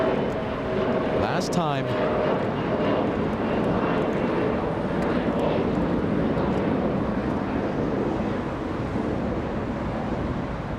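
Lufthansa Airbus A350 jet at Los Angeles International Airport, a steady broad engine roar that holds loud throughout, with a brief spoken phrase near the start.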